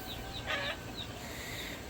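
A big rooster on a homestead gives a brief, faint cluck over steady background noise.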